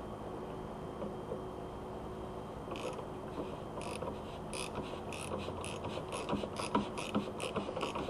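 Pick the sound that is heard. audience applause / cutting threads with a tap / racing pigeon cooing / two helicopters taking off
cutting threads with a tap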